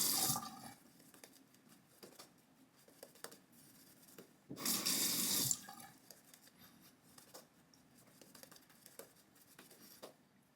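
A Chiseled Face Legacy razor is rinsed under running tap water: a brief, fairly loud rush of water lasting about a second amid quiet handling noises and faint drips.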